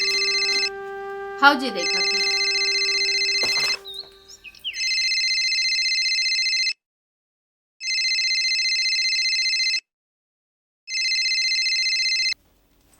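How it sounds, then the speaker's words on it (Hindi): A telephone rings in a rural home, repeated electronic ring bursts with pauses between them, while people talk over the first rings. "काकर फोन बजा थे।"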